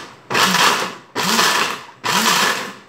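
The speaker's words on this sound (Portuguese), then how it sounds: "Gente, acabei de moer o nosso sabão" A small electric grinder pulverizes coconut soap bar pieces into powder in three loud whirring bursts, each starting abruptly and running close to a second before a brief pause.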